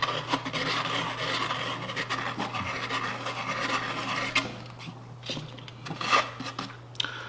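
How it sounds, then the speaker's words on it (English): Sandpaper rubs against a small part of a V-2/A4 model rocket kit in steady, quiet back-and-forth strokes, a soft continuous rasp over a low constant hum. "We'll go back to the sandpaper here."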